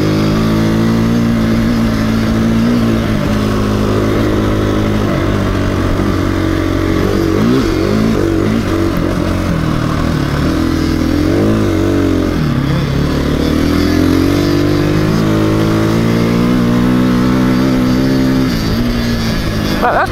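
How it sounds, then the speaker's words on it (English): Dirt bike engines on a group ride in open desert hills, revving and droning loudly and continuously, the pitch rising and falling as riders accelerate and ease off. "that bike's got some speed when it gets up on the pipe, you can tell"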